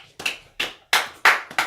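A church congregation claps in a quick, uneven rhythm, five sharp bursts of applause in under two seconds with no voices over them.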